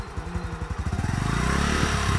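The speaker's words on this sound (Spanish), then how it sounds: "Ahora acelere un poquitillo y empieza a soltar el clutch." A learner's motorcycle engine idles with a rough, pulsing beat, then revs up steadily as the rider accelerates while easing the clutch, loud and close.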